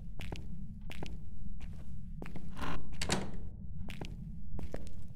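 Doors in Phasmophobia thunk and knock repeatedly, a series of sharp wooden hits spaced about every second, with a rustling scrape in the middle and a low steady rumble underneath.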